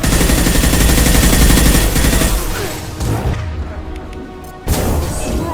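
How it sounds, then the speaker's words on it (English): Concussive shot fired in Mass Effect 2, heard as a dense, loud burst of repeated gunfire and blasts that thins out midway, then a sharp new impact near the end. "Firing concussive shot!"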